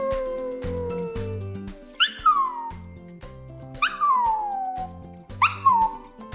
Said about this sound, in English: he howls whenever my parents call my name, and it's very loud